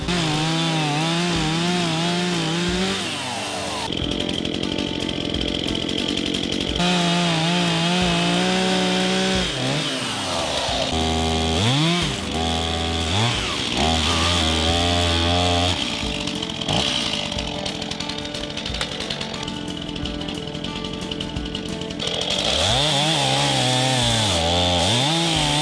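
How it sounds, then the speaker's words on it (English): A chainsaw cutting up long tree trunks during land clearing roars and revs repeatedly, dropping in pitch as it bites into wood, then racing again between cuts; loud and close, no talking. "how to run a chainsaw"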